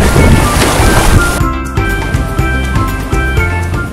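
Loud wind buffeting and rushing water, like waves churning close by, with a steady roar throughout.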